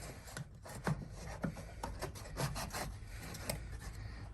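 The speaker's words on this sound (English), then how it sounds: "And we can take our drawers and slide them in." Sanded wooden drawers slide into a small wooden key garden box, producing close rubbing scrapes of wood on wood in several short strokes.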